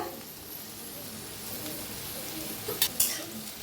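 Okra (bhindi) roasting in a pan with oil while being stirred, giving a steady low sizzle with a couple of sharper scraping clinks near the end.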